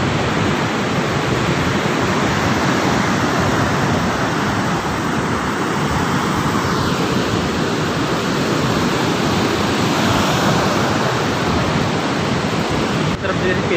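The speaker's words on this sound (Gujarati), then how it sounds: "અહીંયા તો ગાઈસ બહુ બધું પાણી જાય છે" Floodwater of the Mahisagar river rushing after a fresh flood: a loud, dense, steady roar that fills the whole span, close and unbroken, with no voices over it.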